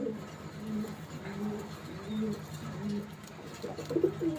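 Imported Pakistani Teddy pigeons in a loft, giving soft low rhythmic coos repeated several times, fairly close and gentle against a quiet background.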